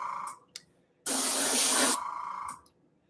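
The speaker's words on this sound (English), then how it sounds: "I have my air pressure kind of cranked up on it so I can get a bigger spray since I'm doing a lot of coverage right now" Spray gun painting a Mandalorian helmet, run at high air pressure for wide coverage: a single loud, steady hiss of close airflow lasting about a second, with faint short bursts before and after.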